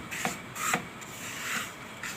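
Ingredients are stirred together in a pot, with soft repeated scraping and rubbing strokes, close and quiet with no speech.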